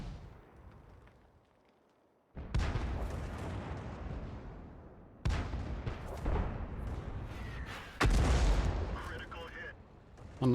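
Tank cannon fire in the World of Tanks video game, with a Grille self-propelled gun booming in three loud, heavy blasts spaced a few seconds apart, each followed by a rumbling decay.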